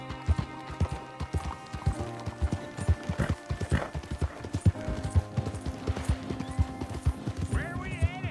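A horse galloping in the Western video game Red Dead Redemption 2, rhythmic hoofbeats pounding steadily and close while characters talk over the ride and faint music plays.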